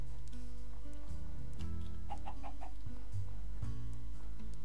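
Game-style chicken clucks in Minecraft, a short run of four quick clucks in the middle, over steady droning background music and low tones.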